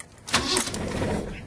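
A Holden VB Commodore that has sat unused for a while cranks and starts, a loud burst of engine noise that catches and keeps running close by through the rest of the moment.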